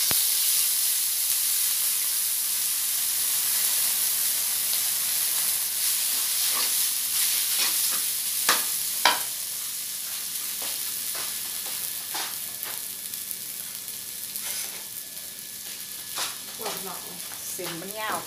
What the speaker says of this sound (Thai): สิพัดเส้นเนาะค่ะพี่น้องเนาะ